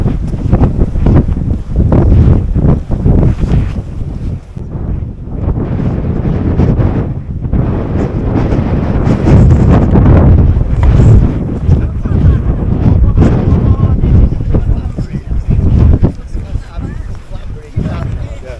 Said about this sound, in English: A wee bit breezy.